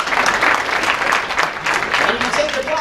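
Audience applause rises at a political talk on campus, a dense continuous wash of clapping from a large crowd that swells and dips for about three seconds, with some voices mixed in.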